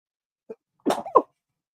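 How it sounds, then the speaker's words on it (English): A single sneeze, preceded by a quick sharp inhale, close and fairly loud, then silence. "I'm going to sneeze"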